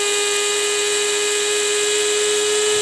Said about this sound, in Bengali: এগুলোকে সুন্দরভাবে গ্রেড করে নেব এজন্য আমি একটা মিডি গ্রাইন্ডারে করে